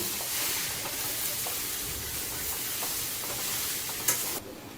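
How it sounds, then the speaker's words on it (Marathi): Potatoes are stir-fried in a pan with a steady hiss and sizzle, broken by occasional scraping stirs, moderately loud and close, ending in a sudden drop. "आता आपण पूर्ण असे काढून घेऊया आणि चांगले परतून घेऊया."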